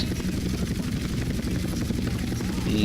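Steady helicopter engine and rotor drone in GTA San Andreas, a dense continuous low roar at close range that holds level throughout with no breaks.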